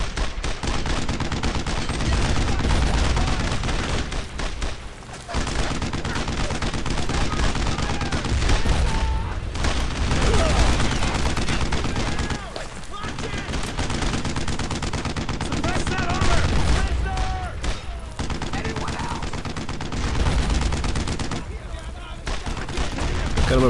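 Dense, loud gunfire from machine guns and rifles in the World War II shooter Brothers in Arms: Road to Hill 30, sustained bursts and overlapping shots with booming impacts throughout, with a voice speaking intermittently over the battle.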